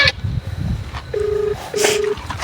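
A phone line rings during a prank call, giving two short, steady electronic ring tones in quick succession, clear and close, with faint background noise between them.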